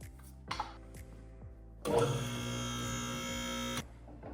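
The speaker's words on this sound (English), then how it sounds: "Now we're going to wrap things up and lower the vehicle" Hydraulic car lift lowering a 2019 Toyota RAV4 in a service bay, a steady loud electric motor whine running for about two seconds after a couple of brief clanks, with a faint mechanical hum before it.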